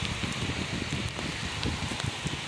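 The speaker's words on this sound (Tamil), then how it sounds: "ஐயோ மழை ஸ்டார்ட் ஆகிடுச்சு" Rain falling during a cyclone in Chennai, a steady dense patter on surfaces mixed with wind, continuous and fairly close.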